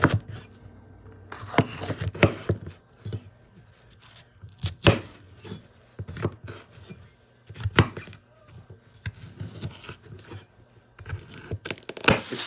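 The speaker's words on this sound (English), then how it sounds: "And I'm going to cut them up with this Kenmore knife" Knife chopping onions with a Kenmore knife in a home kitchen, a run of sharp, close cutting strokes on a board, some in quick bursts, with quiet gaps between them.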